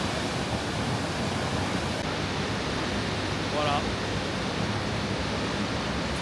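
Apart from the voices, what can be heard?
Montmorency waterfall roaring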